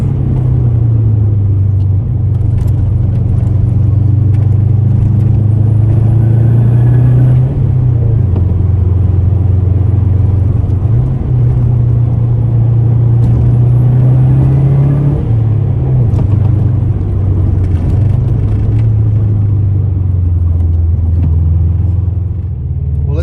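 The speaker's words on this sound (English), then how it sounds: "Go through the gears in this beautiful Rex." An early-model Subaru WRX engine hums and rumbles steadily from inside the car, rising and dropping in pitch with several shifts through the gears, loud and continuous with no talk.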